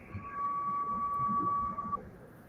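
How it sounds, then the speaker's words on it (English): An electronic beep sounds as a single steady tone lasting almost two seconds, faint over a low background hum. "What is that damn beep?"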